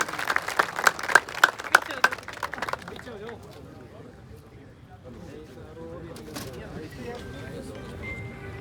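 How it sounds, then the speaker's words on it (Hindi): A few seconds of sharp, fairly close clapping from an audience at a talk at a girls' hostel in Suratgarh, which breaks off quickly and leaves quiet room noise with faint bird cooing and soft voices. "एक बार जोरदार ताली इनके लिए।"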